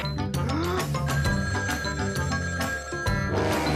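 A telephone rings amid loud, busy background music, its bell-like tone sitting inside a steady musical bed for several seconds.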